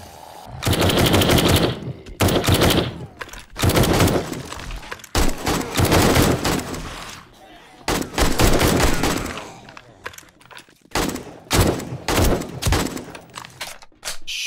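Rapid automatic gunfire in the video game 7 Days to Die as zombies are shot, loud bursts of several seconds each separated by short pauses, with no talk.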